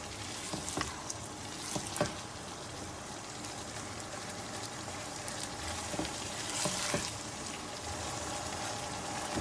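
Minced meat frying in a karahi over a low flame, a steady dense sizzle with scattered sharper pops and crackles, fairly quiet and close, with no voices.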